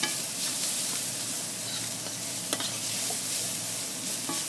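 Garlic sizzling in a hot pan for shrimp and grits, a bright, steady frying hiss up close with occasional stirring clicks and scrapes, no talking.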